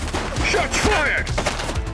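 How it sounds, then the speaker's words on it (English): Gunfire in The Precinct police game crackles in rapid overlapping bursts amid shouted voices and clatter, loud and close over about two seconds. "Shots fired!"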